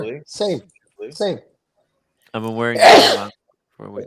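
A single sharp, forceful sneeze bursts out close by in the middle of casual conversation, with people talking just before and after it.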